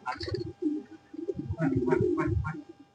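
Pigeons, some white and some moulting, cooing in a loft, low repeated coos running through the clip alongside nearby talk.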